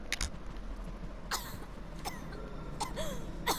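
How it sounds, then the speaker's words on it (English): Ashley, a young woman character in a survival horror video game, coughs in several short bursts spread across a few seconds, each one sharp and fairly close, with a throat-clearing quality and a steady game background hum underneath. "let's see Ashley coughing"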